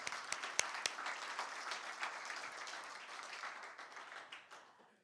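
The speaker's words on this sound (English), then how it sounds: "Let's give a round of applause." Applause from a seated audience at a faith-based entrepreneurs' morning panel on hiring and human resources, a moderate spread of clapping that holds steady for about five seconds before thinning out, with no talking over it.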